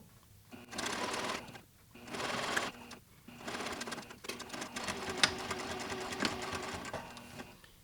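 A sewing machine stitches the waistband seam of custom pants in short bursts, stopping and starting a few times before one longer run of steady rapid needle clatter, close and fairly quiet.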